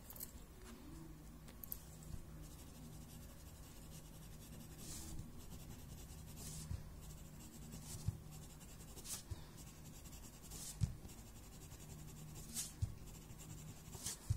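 Chalk pencil drawing on paper, soft continuous scratchy strokes with small taps, quiet and close with no talking.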